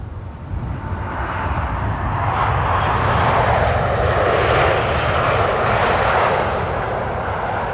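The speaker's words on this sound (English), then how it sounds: "this is Cargolux 86 November, arriving from Miami, Florida" A Cargolux cargo jet arriving at Amsterdam Schiphol from Miami roars overhead, its broad engine rumble swelling in loudness and holding steady for several seconds, with no voices.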